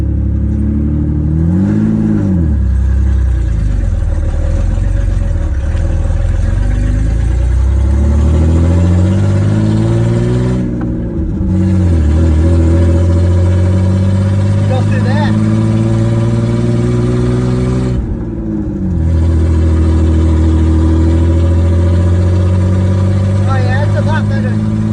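A 1988 Ford Bronco II with a new exhaust drives along, its engine droning loud and close, rising through revs and dipping at two gear changes while people talk inside the cab.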